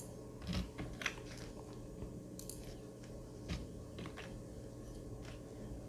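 A computer keyboard clicks faintly as a keyword is typed, a few scattered keystrokes over a quiet room hum with no talk.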